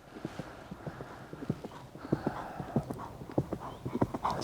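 A stallion canters in a riding arena, its hooves drumming in a quick, steady three-beat rhythm on soft footing, moderately close with faint breathing and no clear voices.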